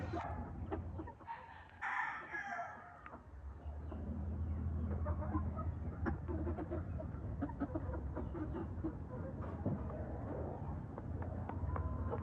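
White Leghorn chickens on a farm cluck in the background, with scattered calls over a steady low ambient hum and no talking.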